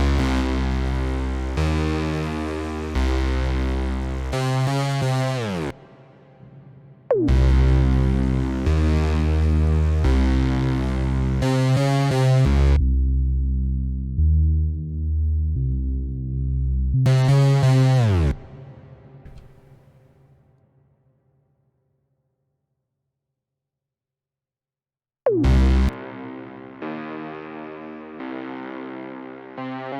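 A very high-pitched 808 bass made in FL Studio 20 plays in a loud, distorted beat pattern, with abrupt stops, a silent gap, then the pattern returning alone.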